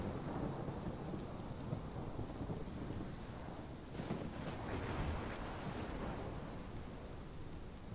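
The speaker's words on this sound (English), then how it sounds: "This is my storm." Steady thunderstorm with heavy rain from the Life is Strange video game, a continuous dense downpour with rolling thunder swelling around the middle, loud and constant with no voices.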